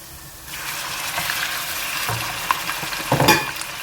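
Meat dropped into a pan of browned onions sizzles and fries steadily, with a louder burst of frying and stirring near the end, no voices.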